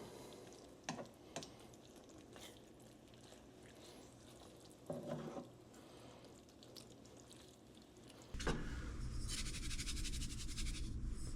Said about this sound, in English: We'll just stir it in.